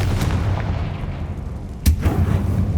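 A Confringo fire spell detonates in Hogwarts Legacy on PS5, heard as loud gunfire-like blasts: a sharp crack early, then a heavier boom near the end, over steady low rumble and no talk.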